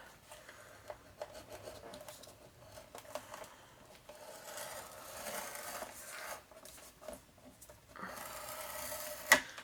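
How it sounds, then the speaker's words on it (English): Paper being scored with a stylus on a scoreboard at half-inch marks, a quiet run of short rubbing, scraping strokes repeated one after another, close by, ending with a sharper stroke. "I'm going to take my scoreboard and score at 1/2 inch."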